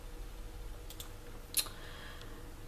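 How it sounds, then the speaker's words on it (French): A noisy computer keyboard clicks in short scattered keystrokes, a couple of quick taps followed by one sharper clack and a few softer presses, close and alone over faint room hum. "J'ai un clavier qui fait un bruit phénoménal"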